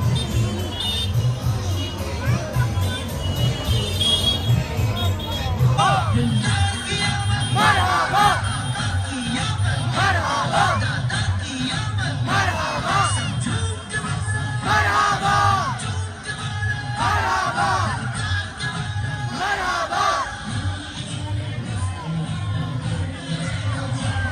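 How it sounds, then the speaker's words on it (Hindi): A large crowd at an Eid Milad un Nabi procession in Ahmedabad fills the air with continuous loud chanting, shouting and rhythmic cheers, dense overlapping voices rising and falling over a steady street din. "देख लो भाई भीड़ ही भीड़ हो गई तमाम"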